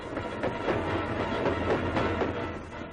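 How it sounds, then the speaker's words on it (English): A World War II army salvage train rolls steadily along the rails, a continuous loud rumble with faint rhythmic clacking of wheels over joints. "A salvage train follows, taking skilled repairmen further up the line."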